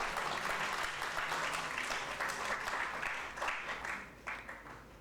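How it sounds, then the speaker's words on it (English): A seated audience gives a round of applause for a guest speaker at a leadership series session, a fairly faint but continuous patter of many hands clapping that thins out toward the end. "Can we have a round of applause?"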